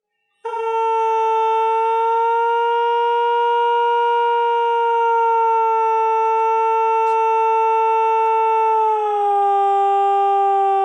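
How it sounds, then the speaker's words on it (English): A long, sustained vocal tone stretched into a smooth, steady drone that holds one pitch for several seconds before dipping slightly near the end. "So here I've got one vocal that I stretched out a lot"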